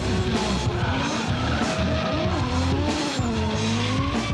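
Drift car at a Drift Allstars competition run, tires squealing continuously under a loud revving engine with wavering pitch as the car slides at maximum angle.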